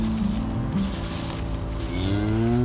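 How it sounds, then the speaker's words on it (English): A herd of cattle on a nature reserve pasture lowing loudly, several overlapping moos with long drawn-out tones, close by and continuous, with no talk. "so I brought the herd out to meet the new cows."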